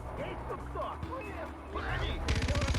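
Machine gun fire in the video game Far Cry 4 starts after a stretch of game noise and talk, then breaks into a loud, fast rhythmic burst of closely spaced shots at the end.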